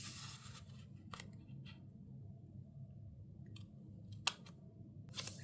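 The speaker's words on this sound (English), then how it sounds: "A lot of arm twisting and maneuvering to cut off these edges." Scissors snip off the edges of washi tape in a journal, a few sharp, crisp cuts spaced apart over a quiet room hum, close to the mic.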